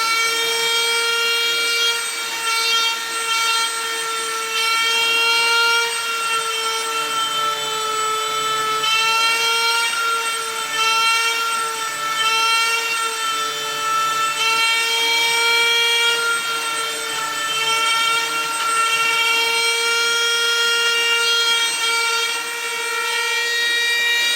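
Power carving tool cutting a groove into a wooden walking stick: a loud, steady high-pitched whine with a wavering pitch as the bit bites into the wood, continuous and close for the whole stretch, no talking.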